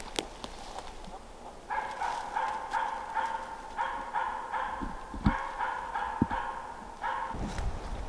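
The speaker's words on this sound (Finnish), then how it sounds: "koppelo rupesi kotkottaa ja lähti aika pitkälle todennäköisesti" A capercaillie hen's repeated clucking calls in short rhythmic bursts, fairly close, over outdoor forest background noise with a few thumps and rustles.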